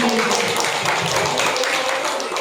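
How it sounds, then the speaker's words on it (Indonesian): An audience applauds after a teacher's poem reading at a school gathering, a steady wash of many hands clapping at close range, loud and even throughout. "Tepuk tangan sekali lagi"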